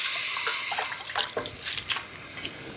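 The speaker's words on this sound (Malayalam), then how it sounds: "ഇനി നമുക്ക് ഇതിലേക്ക് കുറച്ച് വെള്ളം ഒഴിക്കാം" Water poured into an uruli cooking pot holding chopped dates, close splashing and trickling in several uneven bursts over a faint background hiss.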